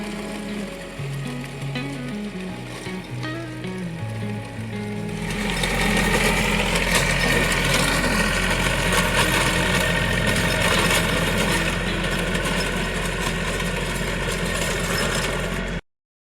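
A Kutty mini tractor engine runs steadily during ploughing, a loud continuous idling chug with a mechanical rattle that swells in strength after the first few seconds and holds until it cuts off abruptly.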